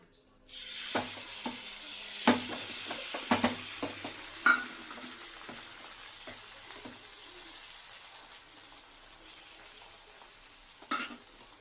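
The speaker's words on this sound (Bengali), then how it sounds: "এবার তেল দিয়ে দিয়ে ইয়ে ডিমটা দিয়ে দিচ্ছি" An egg frying in hot oil in a pan, with a steady quiet sizzle under several sharp clatters and pops early on, then a fainter hiss and one more knock near the end.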